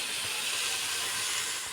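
Steady, loud hiss of food frying in ghee for biryani, a continuous sizzle that fills the whole moment and then cuts off abruptly.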